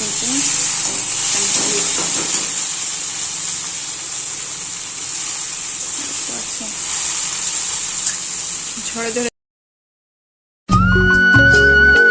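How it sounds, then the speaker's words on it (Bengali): Chow mein noodles boil in a pot of water, giving a steady, close, broadband bubbling hiss that cuts out briefly near the end before returning louder. "এই যে চাউমিন সেদ্ধ করা হচ্ছে"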